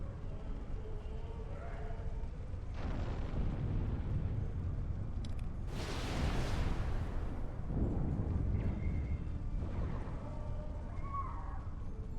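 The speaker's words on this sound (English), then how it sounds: "Charges in place. Now, get to a safe distance and detonate them." Detonated charges in the sci-fi video game Star Trek Online going off as a few distinct booming bursts with rushing noise, the loudest roughly midway, over a steady game background with faint voices.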